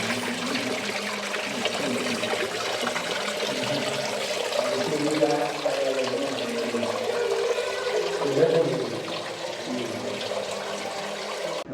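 Water runs steadily at a Vishnu temple in Jharkhand, a continuous close gush and trickle that holds at moderate loudness with small swells and no speech.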